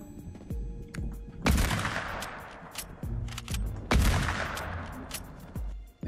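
In Fortnite, nearby gunfire rings out in two sharp loud bursts of rapid shots, each tailing off into echoing reverb, with scattered single pops between them and no talk.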